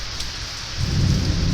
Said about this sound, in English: There's thunder.